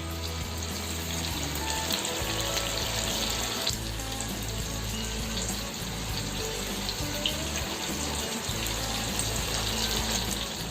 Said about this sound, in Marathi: जे चिकनचे पीस मॅरिनेट केले होते ते आपण असे छान तंदूरसारखे फ्राय करून घेतलेत